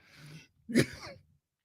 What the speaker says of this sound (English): I'm just starting to cough already